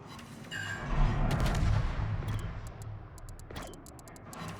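Naval guns firing aboard the Indonesian destroyer Siliwangi in World of Warships, a deep rumbling boom swelling early and fading, with a few sharp cracks later over steady ship noise.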